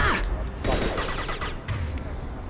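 Rapid gunfire from the video game Mass Effect 2, a dense fusillade of overlapping shots and bursts with booming low end, loud and continuous over about two and a half seconds.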